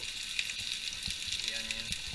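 Chopped onion and garlic sizzle steadily in a hot frying pan, a soft continuous hiss with faint stirring taps, fairly quiet and close.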